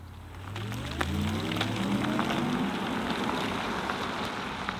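Steady rain patters on a surface nearby, a dense, even hiss of drops with a low rumble beneath, continuing throughout.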